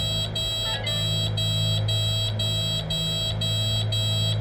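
Landing gear warning horn sounding in a flight simulator game cockpit, a steady, loud electronic tone with regular pulsing beeps repeating about every half second over continuous engine drone.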